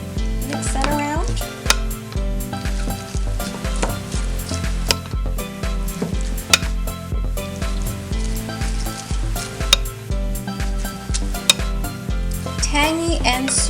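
Ecuadorian-style salsa with ketchup stirred in a pan: steady utensil scrapes and light taps over a gentle sizzle, close by, with music playing underneath the whole time.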